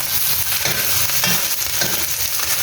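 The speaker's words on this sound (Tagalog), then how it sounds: "Maganda yung i-prito muna natin yung chicken" Chicken pieces frying in a pan for Filipino adobo give a steady, close, loud sizzle and crackle with no talking.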